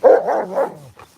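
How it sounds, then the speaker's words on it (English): A dog on a snowy hike gives one loud, close bark followed by a short trailing whine and a faint second yip. "Wait a second, he's barking."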